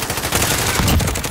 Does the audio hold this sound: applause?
no